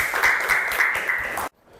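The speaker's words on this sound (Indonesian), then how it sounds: "Tepuk tangan, silakan duduk lagi." A classroom audience claps for a student who has just presented, steady applause lasting about a second and a half before stopping abruptly.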